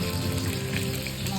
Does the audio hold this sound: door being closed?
no